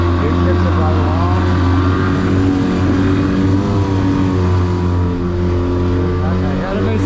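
A jet boat powered by a 2012 Yamaha 200 SHO VMax jet outboard runs steadily against a river current, its engine droning loud and close in a constant tone, with no voices.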